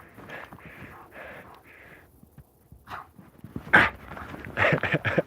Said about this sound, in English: What a silly dog, hey?